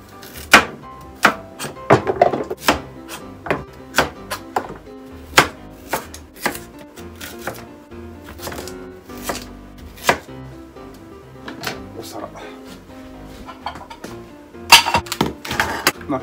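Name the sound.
chopping carrots with a knife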